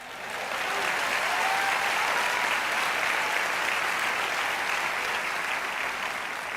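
A church congregation breaks into loud, sustained applause that swells within the first second and holds as a dense, even wash of clapping to the end.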